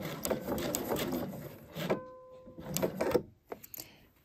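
A sewing machine stitching fabric, running in short bursts with a brief stop partway through, close and moderately loud.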